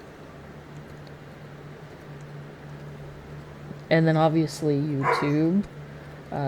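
Dogs bark a few times near the end, a short run of sharp yips after a quiet stretch, with a steady low hum underneath.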